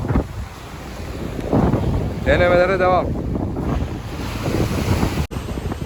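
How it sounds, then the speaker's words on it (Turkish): Strong wind roars against the microphone by the sea during a fishing trip, with waves and surf underneath; someone speaks briefly over the gusts. "Arkadaşlar şu an çok rüzgarlı bir hava var."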